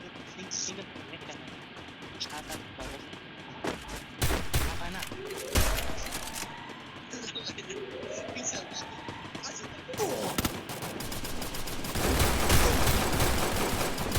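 Bursts of rapid gunfire and single shots ring out in a Counter-Strike match, loud and close, with a heavy sustained volley near the end while a player talks throughout.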